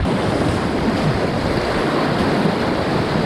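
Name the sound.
surf wave on river rapids while kayaking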